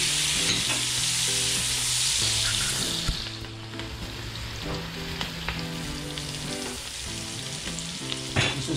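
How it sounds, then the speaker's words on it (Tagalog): Garlic and onion sauté in butter for Pampanga-style pork asado, a steady loud sizzle with occasional stirring clatter, close up and without talk. "Ngayon magigisa na tayo. Maglalagay tayo ng konting butter. Tapos ilalagay na natin yung ating bawang. Sabay na natin yung ating onion."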